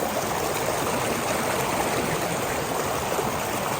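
A fast-flowing stream rushes at night during fishing, a steady loud broadband wash of water with no break and no talk.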